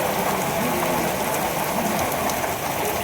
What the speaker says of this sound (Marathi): खूपच जोरात पाऊस आला अशा पद्धतीने.